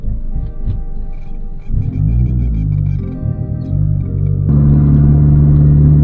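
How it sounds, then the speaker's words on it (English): A Proton Satria car with a turbocharged 4G93 SOHC engine runs steadily on a dyno with a deep, throbbing rumble that shifts in pitch and grows louder toward the end. "This car sounds absolutely nice."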